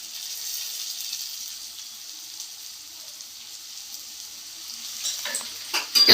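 Potatoes with slit green chilies sizzle and fry in a pan, a steady close hiss with scraping stirs growing busier toward the end.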